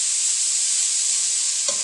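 Vegetables sizzle in hot oil with turmeric while being stirred, a bright, steady frying hiss close up with a small scrape of the spoon near the end.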